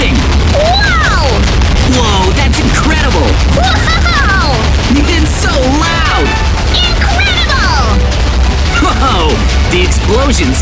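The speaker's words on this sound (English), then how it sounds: "Whoa, they're all exploding! Wow! Whoa, that's incredible! Wow! It's so loud!" A barrage of explosions in a video game, loud overlapping blasts, cracks and bangs piling up continuously, with whooshing streaks and an excited voice talking over the chaos.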